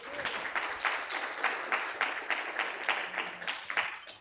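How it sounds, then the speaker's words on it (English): Women in a conference room applauding at a financial summit, a moderately faint, steady round of clapping with a loose rhythmic pulse, continuous and without talk. "Can we all give ourselves a round of applause as women in this room?"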